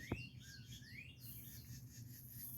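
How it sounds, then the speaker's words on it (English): Several small birds chirp and twitter in quick, high overlapping calls, fairly faint and continuous against a quiet outdoor background. "You can hear the birds. They're jabbering away"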